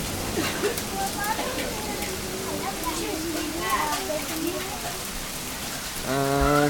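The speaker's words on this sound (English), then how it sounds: "every time the wind picks up, the hailstones get bigger" Hailstones and rain pelt down steadily during a small Oklahoma hail storm, a dense continuous patter while people talk over it, with a louder burst near the end.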